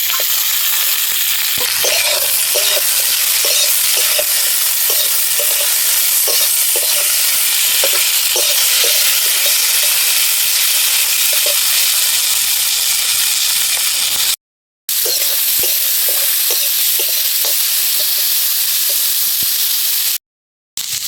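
Chopped tomatoes, ginger and garlic fry in a pan over lightly browned onions. A loud, steady sizzle runs throughout, broken by the scrape and clatter of stirring and two brief dropouts.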